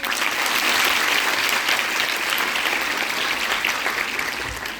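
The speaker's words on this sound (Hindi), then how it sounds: "जब आप ताली बजाते हो ना तो अच्छा लगता है।" Dense, steady applause from an auditorium audience fills the space evenly and fairly loudly, with many hands clapping at once and no talking over it.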